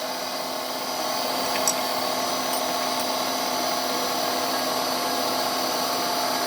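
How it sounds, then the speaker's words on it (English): Steady high-pitched whine of a solid carbide drill bit boring into helicopter blades with a little WD-40, held constant and close throughout with no talking. "I'm going to show you how I'm drilling them."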